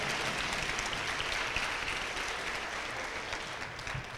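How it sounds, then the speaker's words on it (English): A school audience applauds at a 7th grade awards presentation, with dense, continuous clapping that stays loud and even throughout. "let's give a round of applause"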